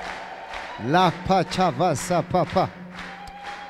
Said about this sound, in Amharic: ይሄ ጭብጨባ እልልታ ለሰውም አይሆን እንኳን ለእግዚአብሔር።